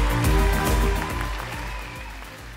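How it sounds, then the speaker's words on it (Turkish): Audience applause during the grand final of a Turkish song contest, crowd clapping heard over a loud rhythmic musical backing with deep bass beats, no talk. "Bunun için de bir alkışlar mısınız kendisini?"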